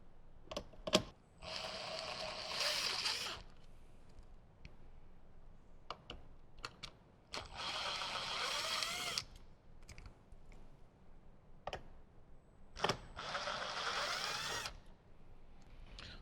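A power driver spins out T25 Torx screws from the plastic trim panel of a 2018–2023 Jeep JL Wrangler, three separate whirring bursts spaced several seconds apart, each with small clicks and taps in between.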